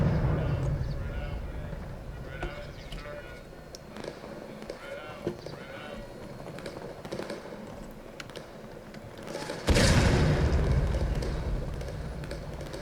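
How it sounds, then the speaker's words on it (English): Federal artillery fires in the Civil War video game War of Rights. A single heavy boom bursts out partway through and rolls away slowly, following a stretch of low battlefield noise with voices in the background. "I think that's federal artillery shooting at us."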